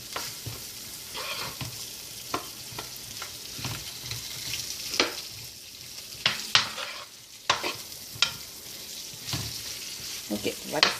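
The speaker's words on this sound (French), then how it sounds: "on va laisser cuire notre oignon" Onions cook in a frying pan with a steady soft sizzle, broken by sharp scraping clicks of stirring at irregular intervals, close-up with no talk.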